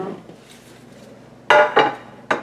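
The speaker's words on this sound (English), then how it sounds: "now let me get my casserole dish and we'll put it all together" A ceramic casserole dish clatters among pots and pans in a home kitchen, with a soft background rustle and then three sharp, close clanks of dishware.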